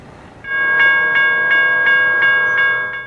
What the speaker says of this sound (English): When you see flashing lights and gates lowering, stop. A train is coming.